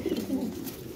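Pigeons of a beauty breed, including an Andalusian-coloured pair, coo at a pigeon farm, a steady low throaty cooing running throughout, close and moderately loud, with no talk.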